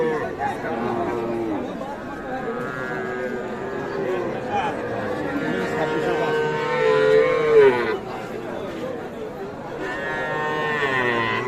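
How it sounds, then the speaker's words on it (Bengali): A young bull calf of about four to five months moos repeatedly at a busy cattle market, its drawn-out calls rising and falling under steady nearby talk and crowd chatter. "এটাও কিন্তু ষাঁড় বাচ্চা, আনুমানিক 4-5 মাস বয়স হবে"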